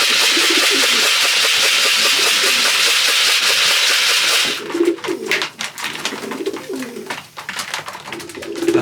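Pigeons in a loft coo in soft, repeated throaty phrases close by, first under a steady hiss of background noise and then more clearly in the quieter second half, with no talk.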